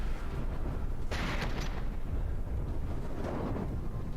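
Flak explosions in the video game From the Depths, a muffled booming burst over a dense rumbling battle background, with a fainter second blast later.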